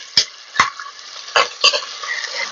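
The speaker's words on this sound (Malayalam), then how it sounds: "2 മീഡിയം വലിപ്പമുള്ള സബോള കേട്ടാ, കനം കുറച്ചരിഞ്ഞത് അതിട്ട് കൊടുക്കും" Thinly sliced onions, two medium ones, frying in oil in a pan for a Kerala breakfast, with several sharp stirring scrapes and clatters over a soft, steady sizzle.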